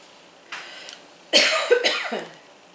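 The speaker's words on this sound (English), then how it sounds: "no, I'm coughing. You're making me cough too." A single close cough, loud and abrupt, preceded by a faint throaty sound, with no talking.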